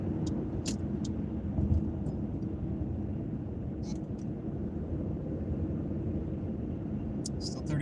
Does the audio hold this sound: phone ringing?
no